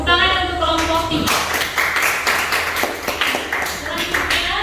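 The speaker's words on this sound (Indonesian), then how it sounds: "Tepuk tangan untuk kelompok 3." Group 3 in a classroom presentation gets a round of hand clapping. After a few seconds of talk, the group claps in a brisk, close, irregular patter that carries on to the end.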